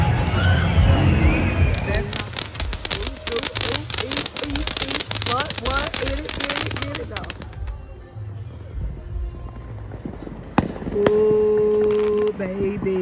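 Fireworks burst at an outdoor ribfest, a rapid run of sharp pops and crackles with booming reports over crowd noise, then fading to scattered bangs as people talk and cheer nearby.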